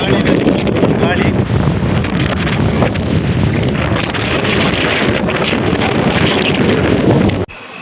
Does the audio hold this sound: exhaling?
no